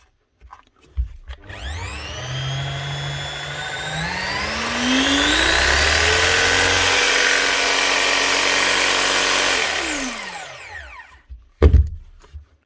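A repaired Makita 4350 FCT jigsaw motor revs up, rising in pitch to a loud, steady buzzing whine, then winds down and stops, followed by a brief clatter.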